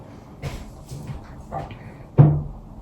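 A door being shut indoors at home: a few soft knocks and shuffles, then one sharp, fairly close thud as it closes, with a brief rattle after.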